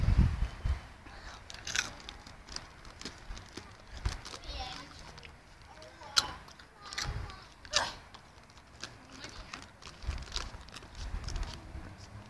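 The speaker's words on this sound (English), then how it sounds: "That noise is me eating toffee popcorn." Someone eats toffee popcorn outdoors in a park, giving a run of close, irregular crunching and chewing bursts, with some faint background talk.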